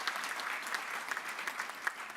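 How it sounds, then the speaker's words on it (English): A university graduation audience in London gives a round of applause, a steady, even patter of many hands clapping throughout at moderate volume, with no voices over it. "Could you give Lawrence a huge round of applause for that?"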